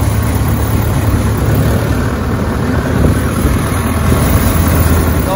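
A big tractor engine idles nearby with a steady low rumble and throb, loud and constant throughout, no talk.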